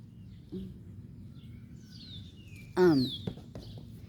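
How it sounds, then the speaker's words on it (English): Two small birds indoors give a few short chirps and one louder fluttering call, with soft background noise and long quiet gaps between. "So we got two birds right here."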